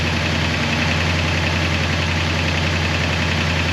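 A 1966 Oldsmobile 442 V8 with an Edelbrock carburetor idling close by, a loud, steady low rumble with a fast, even pulse that carries on without pause.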